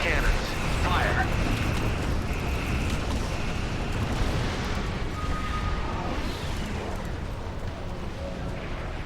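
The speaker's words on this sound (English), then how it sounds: "Both cannons. Fire." Twin cannons firing in a naval video game battle, a heavy sustained roar of blasts and rumble that carries on for several seconds, with a voice speaking over the din.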